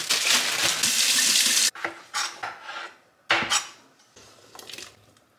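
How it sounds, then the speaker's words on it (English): Potatoes being washed under a running kitchen tap: a steady rush of water for nearly two seconds, then several short bursts of splashing and handling in the sink, close by, with no talking. "I need to go ahead and wash these potatoes, chop them up, and throw them in"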